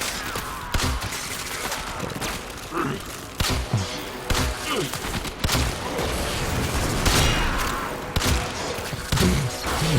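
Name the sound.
gunfire in the video game Warframe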